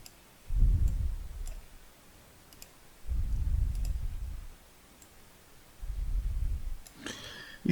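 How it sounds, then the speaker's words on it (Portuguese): A rubber eraser scrubbing pencil marks off paper during a sixth-grade math worksheet correction, three separate rubbing bursts of a second or two each with short pauses between, close and moderately loud, with no talking. "deixa eu só pegar a borracha aqui"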